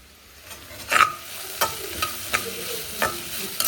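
Okra palya stir-fried in a home kitchen pan, with a spatula scraping and tossing the vegetables in a steady, moderately loud rhythm over a soft, continuous sizzle.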